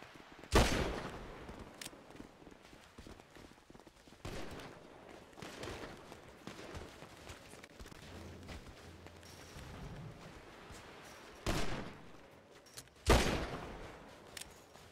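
Gunfire in the FiveM game, with several loud sharp bursts of shots spread out across the stretch and quieter crackling rounds between them. No one speaks.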